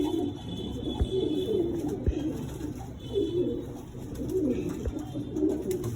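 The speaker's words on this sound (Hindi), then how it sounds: "ये भाई चीनी जर्सी पंजाबन कबूतरी तीसरी" Soft, repeated cooing of a Chinese Jersey Punjaban female pigeon, steady low throaty calls rolling on through the clip against a faint hiss, with a few sharp taps between them.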